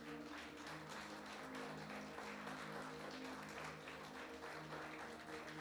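A church congregation stands and applauds loudly during a celebration service, a dense, continuous wash of many hands clapping that holds steady throughout, with faint voices mixed in.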